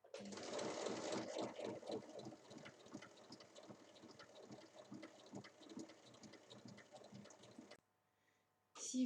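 A sewing machine stitches around the lining of a zippered pouch, a close, steady mechanical whir with rapid needle ticking. It runs for about eight seconds, then stops abruptly, leaving near silence before a faint thump.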